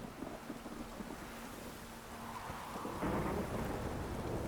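Thunder rumbles through a stormy scene in The Witcher 3, a low rolling boom swelling over steady hissing rain, continuous and fairly loud, with no voices.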